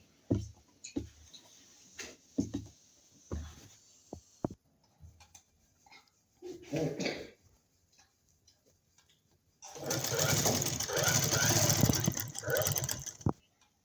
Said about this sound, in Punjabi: ਹੁਣ ਆਪਾਂ ਇਸ ਤੇ ਸਲਾਈ ਲਗਾਵਾਂਗੇ